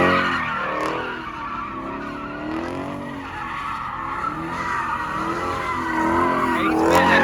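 A car in the Roblox game Jailbreak skids and spins out, with tires squealing loudly and continuously and the engine revving underneath throughout.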